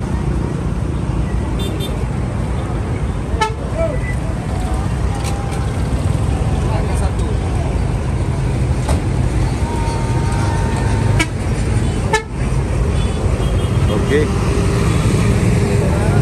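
Inside a moving, crowded passenger bus on a homecoming trip, a steady loud engine rumble and road noise continue throughout, with a few sharp horn toots from traffic.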